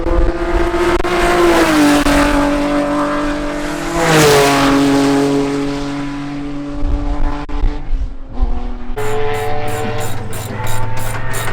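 A race car with a full exhaust and a new engine drives on a track, revving loudly through rising and falling gear pulls with sharp shifts, close and dominant the whole time.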